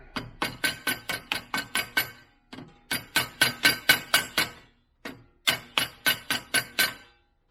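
A part being tapped into place with a hammer: three quick runs of sharp metallic taps, about eight evenly spaced strikes each with short pauses between, close and loud with no talk.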